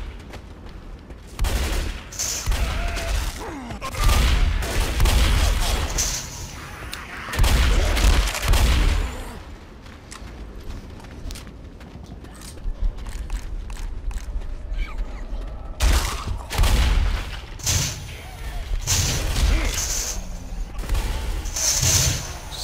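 Gunfire in Left 4 Dead during the Crash Course truck depot finale, with bursts of loud shots and booms in clusters over a churning, clanking game background.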